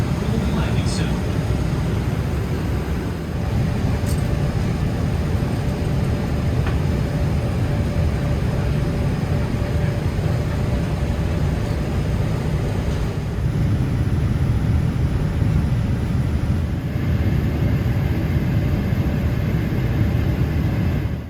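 A steady, loud low roar fills the cabin of an American Airlines Boeing 787-8 during descent before landing in Philadelphia. It stays continuous with a faint tone above it, and voices come through now and then.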